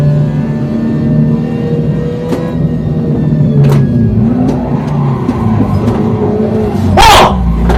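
A car engine in a driving video game drones and revs loudly and continuously while the driver brakes and downshifts. The engine tone shifts in pitch, with brief sharp blips near the end.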